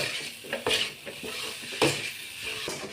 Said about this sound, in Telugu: హై ఫ్లేమ్లో పెట్టుకొని ఫ్రై చేసుకోండి